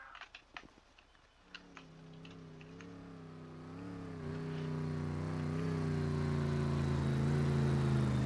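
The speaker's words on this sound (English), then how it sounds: "Look at that green car there" A car engine in a video game revving up, rising in pitch and growing steadily louder after a few brief knocks at the start.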